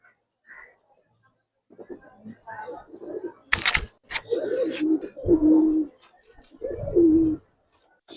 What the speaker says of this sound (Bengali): এই 3 পেয়ার কবুতর আজকের বাজারে যদি কোনো ভাই বন্ধু নেয়